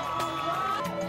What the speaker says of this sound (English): The crowd of onlookers cheered